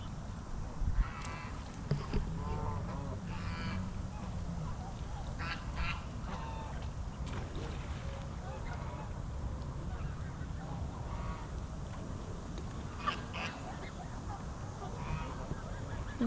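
Ducks quack in scattered, soft bursts, some calls overlapping, against a quiet outdoor background at Hafer Park, Edmond, Oklahoma.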